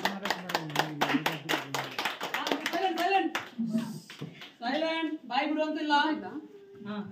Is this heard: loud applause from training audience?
yes